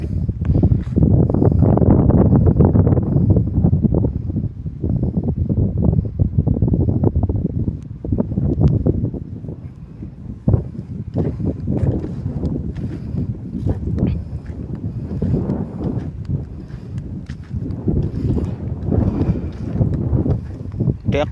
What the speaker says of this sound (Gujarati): આગળથી ટ્રેક્ટર ચાલ્યું આવે છે